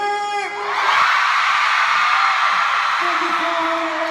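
A concert crowd at a show screams and cheers in a huge sustained roar that swells after a brief musical tone, loud and continuous, with a held note returning near the end.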